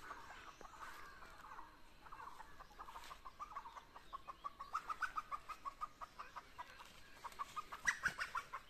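A wild chicken clucks in a rapid rhythmic series from bushes, faint and somewhat distant, growing a little busier toward the end over quiet outdoor background in a Himachali village.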